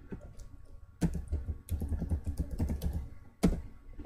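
Quick clicking keystrokes on a computer keyboard as a password is typed at a database installation prompt, with a few louder key hits standing out, close and fairly quiet, no talking.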